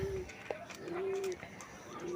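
A pigeon coos softly nearby, a couple of low drawn-out calls with a faint click between them over quiet background.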